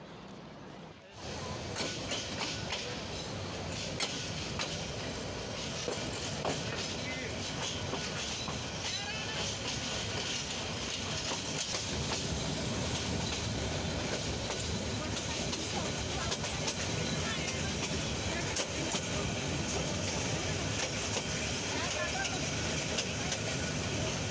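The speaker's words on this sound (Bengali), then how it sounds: "কাঙ্ক্ষিত ট্রেনটি প্রবেশ করল সরারচর রেলওয়ে স্টেশনে" Train 737, the Egarosindhur Provati, rolls into Sararchar railway station with a loud, unbroken rumble and rhythmic clickety-clack of the wheels that fills the whole stretch, heard up close from on board.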